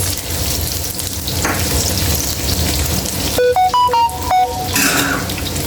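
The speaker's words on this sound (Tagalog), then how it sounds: "Yan, igisa na natin. Lagyan natin ng bawang" Vegetables with garlic and onion sauté in a pan, giving a steady close sizzle throughout, with a few bright clinking tones near the end.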